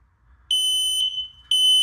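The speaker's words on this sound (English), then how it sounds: "in a minute you will see the red light come on and it will alarm" A Clipsal mains-powered smoke alarm gives loud, piercing high-pitched beeps, with a long tone followed by a short break and another tone, sounding close in a quiet room.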